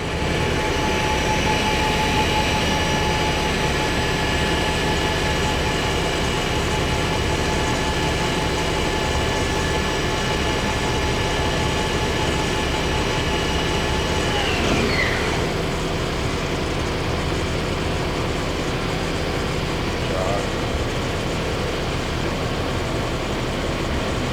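A Kitamura Mycenter HX1000i horizontal machining center spindle running at 4,000 RPM: a loud, steady mechanical whir and broadband roar with a faint high whine, continuous throughout.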